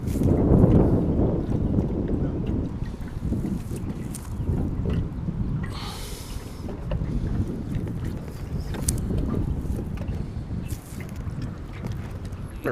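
Gusty wind buffets the microphone while someone fishes from a boat, a heavy rumbling roar that swells and eases throughout, with faint splashes and knocks underneath.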